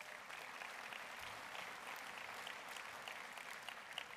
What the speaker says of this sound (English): Give them all of a round of applause for.